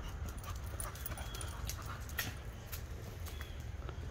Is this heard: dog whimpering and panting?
yes